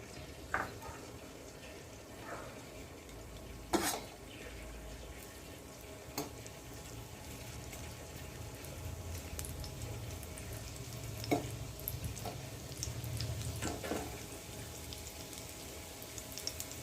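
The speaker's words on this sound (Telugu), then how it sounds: "నెయ్యి కొంచెం వేడెక్కిన తర్వాత మనం ఈ అల్లం ముక్కల్ని వేసుకుందాం" Ginger pieces frying in hot ghee give a steady low sizzle with occasional sharp crackles and stirring clinks, close by and fairly quiet, with no talk.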